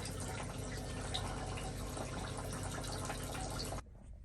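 Water rushes steadily through a tankless reverse-osmosis system filter being flushed, a loud continuous hiss and gush that cuts off sharply near the end, leaving a quiet low hum.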